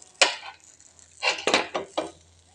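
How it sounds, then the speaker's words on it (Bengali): A sandwich maker lid shuts on a buttered cheese sandwich, giving a few close clacks and knocks of metal and plastic, one sharp tap followed by a cluster of louder clunks, with no talking. "এরপর ঢাকনাটা বন্ধ করে দেব।"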